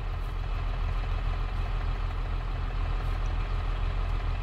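Farming Simulator 22 tractor engine idling steadily, a continuous low diesel rumble with a mid-range chug that stays loud and even throughout, with no talk over it.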